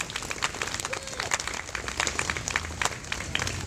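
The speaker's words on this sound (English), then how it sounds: "Let's give them a round of applause." Applause for a school Eagle Squad after their performance at an elementary school playground dedication, scattered outdoor clapping from a crowd of children and adults, moderately loud with a voice briefly heard over it.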